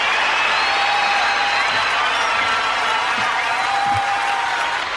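A massive crowd at a 1984 concert aboard the aircraft carrier USS Constellation roars and applauds in a steady, dense wash of cheering that fills the whole stretch without letting up.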